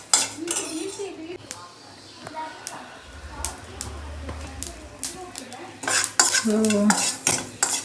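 White sesame seeds frying in a pot: scattered crackles and spoon scrapes against the metal, with bursts of clattering stirring, heard up close while a person talks at times.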